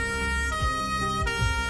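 An ambulance siren wails as the vehicle rushes a patient to hospital, a loud, sustained electronic tone with rising and falling sweeps, heard alone over road noise without any talk.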